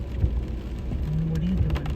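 Heavy rain pours down steadily outdoors, a dense close hiss of drops with a low rumble beneath it, and no talk.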